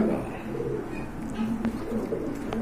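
A pair of pigeons coos in steady, low, throaty calls that repeat over a constant background murmur, close and moderately loud, with no talking.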